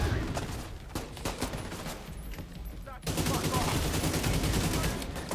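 Dense bursts of rapid gunfire from The Division 2 video game, loud and continuous with overlapping automatic shots and a sharp surge partway through.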